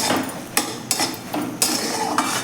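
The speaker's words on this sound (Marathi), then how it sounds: "आणि हे व्यवस्थित आता मिक्स करून घेऊयात आपण" Cardamom powder being mixed into a puffed rice and jaggery mixture for chikki, a spoon scraping and clacking against the pan in a few sharp strikes over a continuous rough stirring noise.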